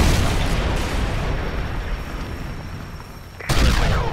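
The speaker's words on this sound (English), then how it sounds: "Friendly Predator missile inbound." A Predator missile explosion in Modern Warfare 3 roars as a sustained, loud rumbling blast, fading slightly before a second sharp burst near the end, with no talking.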